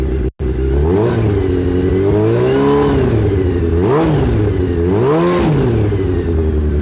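A Suzuki Hayabusa motorcycle engine with straight-through exhaust pipes revs continuously, its pitch rising and falling in several loud throttle swells, with a brief dropout near the start.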